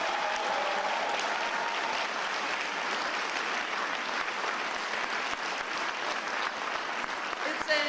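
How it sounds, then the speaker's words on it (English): Sustained applause from a large crowd at a Philadelphia police commissioner swearing-in ceremony, a dense, even wash of clapping that stays steady throughout. "You can give a round of applause for that."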